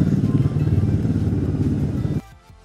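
Motorcycle engine droning close by on a hill road near Kurseong, a steady loud roar that cuts off abruptly toward the end, leaving quieter background.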